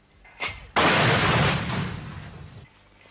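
Mortar or artillery fire in a 1971 wartime setting: a short sharp pop, then a loud booming blast that rolls on and fades over about two seconds, heard alone without talk.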